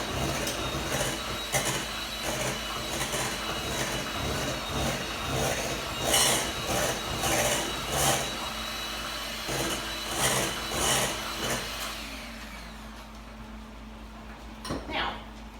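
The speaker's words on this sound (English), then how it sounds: "I'm going to finish mixing this up, and then we're going to put it in our baking pan" Cake batter is scraped and stirred in a bowl in a steady, rhythmic rubbing pattern that continues for around twelve seconds, then fades to quieter handling noises.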